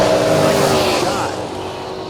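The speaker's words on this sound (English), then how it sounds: "that sound you hear, folks, there's cars going down the racetrack" Drag racing cars run down a racetrack at a drag strip event, producing a loud engine roar that swells and then recedes over about two seconds.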